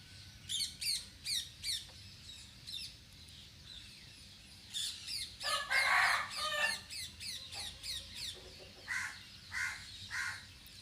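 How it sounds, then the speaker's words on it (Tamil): Several birds call repeatedly from nearby trees by a village house in the morning, harsh cawing and squawking calls in bursts, with a rooster-like crow mixed in over a quiet background. "இங்கே காலையில் எங்கள் வீட்டில் இந்த பக்கத்தில் மரத்தில் இருக்க எல்லா பறவைகளும் வெளியில் போகுங்க,"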